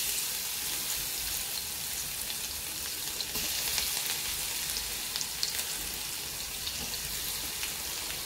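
Garlic sizzles steadily with cumin seeds in hot oil, a dense, even hiss close up with scattered tiny pops and spatters throughout.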